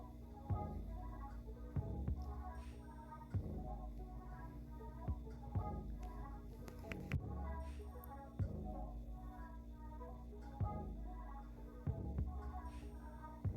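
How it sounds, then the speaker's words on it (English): A heating tool dries paint on a stenciled craft jar, producing a quiet, steady droning hum with faint rhythmic thumps pulsing through it. "using the heating tool to dry it"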